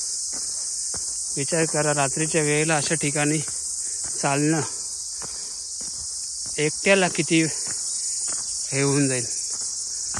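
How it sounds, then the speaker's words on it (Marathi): Crickets chirping in a forest at night on a Prabalgad and Kalavantin Durg trek, a constant high shrill drone that runs throughout under someone talking. "तुम्ही साईडला ऐकू शकता रातकिड्यांचा आवाज"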